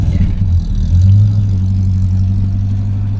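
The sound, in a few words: V8 engine of a Leyland P76 taxi running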